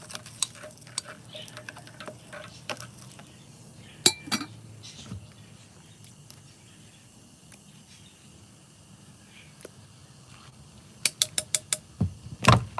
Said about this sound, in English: stirring all this up.